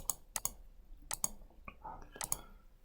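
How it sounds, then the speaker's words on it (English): Fingers tap numbers into a calculator keypad: several sharp, light clicks in short clusters of two or three, with pauses between, close by and fairly quiet. "So just type that in the calculator."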